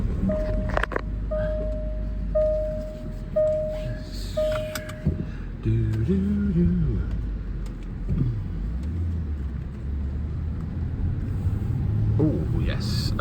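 A Range Rover L405 on the road after a suspension repair, its engine rumbling steadily from inside the cabin with road noise and brief tonal chimes early on, a voice talking over it.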